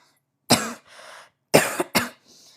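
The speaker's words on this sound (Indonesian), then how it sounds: "ini aku batuk karena teman-teman nih" Three sharp coughs close by, each followed by a softer breathy rasp, with a short pause between the first and the last two.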